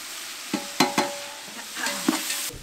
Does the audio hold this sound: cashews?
yes